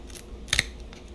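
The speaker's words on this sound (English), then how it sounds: "See if we can snip enough." Pruning scissors give one quick double snip while cutting a Pisang Raja banana, a brief close crisp cut standing out alone against a low background.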